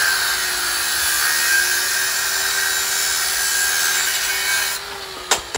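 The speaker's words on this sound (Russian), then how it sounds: "все пилит, он не устает" A saw cuts through wood in a long, steady, close grinding rasp that runs without pause for several seconds before stopping, followed by a couple of sharp knocks.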